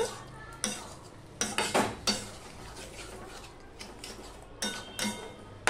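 A spoon scrapes around a pan as yogurt is worked into a soyabean paneer curry, in close, repeated bursts of metallic scraping and clinking over a faint steady hiss.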